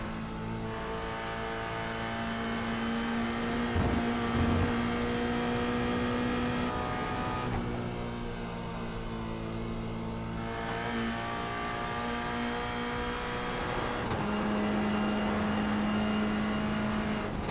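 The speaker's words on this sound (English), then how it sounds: "Listen to his throttle, listen to the brake" Onboard a Toyota GR86 racing at Mosport in iRacing, the engine drones loud and steady, its pitch climbing through gears and dipping sharply on throttle lifts and braking for corners.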